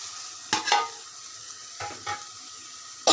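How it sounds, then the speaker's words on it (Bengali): Boiled small potatoes frying with spices in a pan for a salted hilsa dish, a soft sizzle broken by a few scraping stir strokes, close with no voices. "আলুগুলো এটার সাথে ভালো করে কষিয়ে নেব।"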